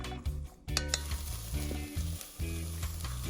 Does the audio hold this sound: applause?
no